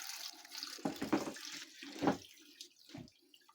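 Carrot juice trickling and splashing from a homemade press driven by a two-ton jack, faint and close, in short uneven bursts with no talking.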